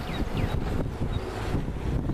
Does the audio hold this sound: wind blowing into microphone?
yes